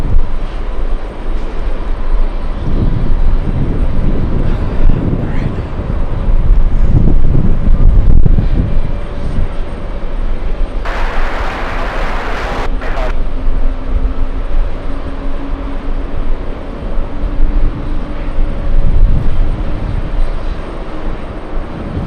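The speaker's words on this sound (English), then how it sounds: "Big one! Emirates on final," Emirates airliner on final approach to land at JFK airport, a steady distant jet roar rumbling continuously throughout, with a brief hiss swelling in the middle.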